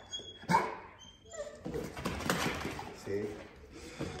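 A young police K9 dog gives a short bark followed by whimpers and yips at close range, while people talk nearby.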